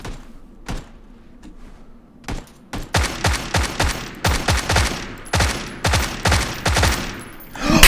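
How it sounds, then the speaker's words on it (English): Tommy gun fire in the video game PUBG comes as a string of sharp, loud single shots and quick bursts, growing denser over several seconds. "Tommy gun for the win, yo!"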